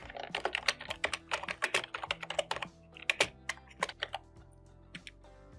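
Fingers type quickly on a computer keyboard, close and crisp, in irregular bursts of keystrokes that slow to a few scattered taps near the end, with no talking.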